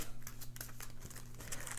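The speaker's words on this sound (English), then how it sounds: "take your flood deck, which has pictures of all the different locations of the island, and shuffle it up" Forbidden Island flood deck cards, each printed with an island location, are shuffled by hand. The paper cards give soft, quick crinkling and snapping riffles at close range against a faint steady background hum.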